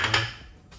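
Barley drink mix with collagen and glutathione rattles briefly inside a blender cup as it is shaken, giving a short clattering burst that quickly fades, with no talking.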